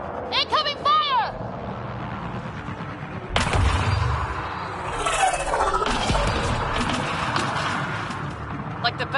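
Gunfire in Mass Effect Andromeda during a battle: bursts of rapid weapon fire and heavy impacts roar loud and close for several seconds, and spoken dialogue is heard under the shooting.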